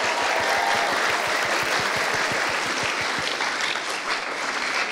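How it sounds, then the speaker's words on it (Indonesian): Sustained applause from the audience at an Indonesian stand-up comedy show, loud dense clapping that holds steady and tapers slightly toward the end, with no talking over it. "Tepuk tangan."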